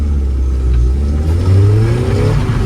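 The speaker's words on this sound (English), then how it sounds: "you can slide the Miata in this corner" A Mazda Miata drift car revs loudly and steadily while sliding through a corner, its engine droning and rising in pitch, heard up close and alone.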